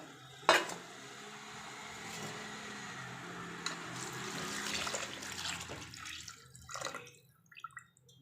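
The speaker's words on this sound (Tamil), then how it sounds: "நம்ம தண்ணி அளந்து ஊற்றியாச்சு." Water pours and splashes into a metal pot with a continuous rushing trickle, preceded by a clank and followed by a few soft knocks.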